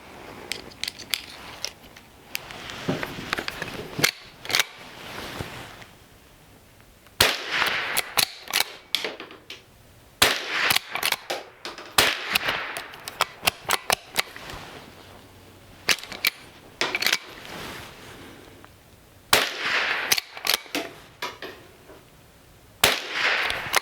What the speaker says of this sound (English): I've got 5 more rounds left in this box of those Federal Champions, so I'm just going to go ahead and get rid of those